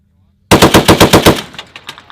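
An M2A1 .50 caliber machine gun fires one short, loud, close burst of about eight rapid, heavy shots, then its echo rings off behind it.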